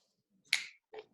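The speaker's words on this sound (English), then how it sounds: "for 3 it's a snap" Two crisp finger snaps ring out alone in a quiet room during a partner connection exercise, the first sharper and louder, the second softer a beat later.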